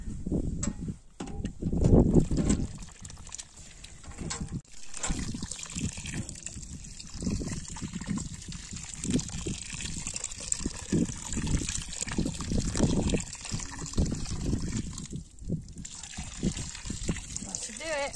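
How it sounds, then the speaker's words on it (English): Water pours and splashes steadily onto a compost pile, trickling and gushing in bursts, with people talking intermittently over it. "the final step is to water it all down."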